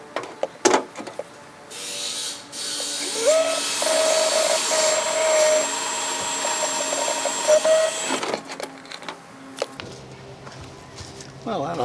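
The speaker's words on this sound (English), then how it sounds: "But there is a floor right about here that I have to drill a hole through" A power drill bores a hole through the floor of a Grand Design Momentum 376TH RV, whirring steadily for several seconds with a rising pitch and clattering bursts before and after, close and fairly loud.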